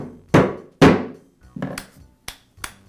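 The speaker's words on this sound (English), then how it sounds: "I'll place the cap over the shaft and tap it into place with a rubber mallet." Rubber mallet tapping the cap of a Makita reciprocating saw into place over the shaft: five close, dull thumps, the first two heavier, the last three lighter and quicker, with no one talking.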